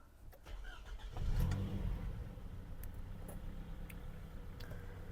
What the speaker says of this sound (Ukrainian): Давайте зараз заведемо автомобіль.